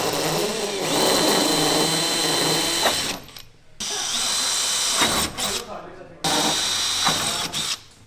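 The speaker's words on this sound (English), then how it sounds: "drill the holes for the bottom part of the fender" A power drill boring holes into a car fender on a GT86 project car: three loud, close bursts of whining drilling, each lasting a few seconds and separated by brief pauses.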